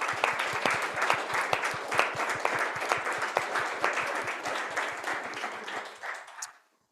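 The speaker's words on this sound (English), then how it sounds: "Can we give Marita a round of applause?" A room of people at a team meeting applauds, dense close clapping that holds steady for several seconds and then quickly fades out.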